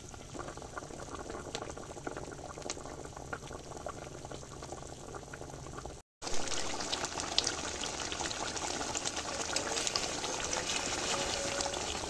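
Sea fish curry made with dhela fish simmering slowly in a pot on the stove, a continuous bubbling and gentle sizzle close by, briefly cut off midway and then resuming.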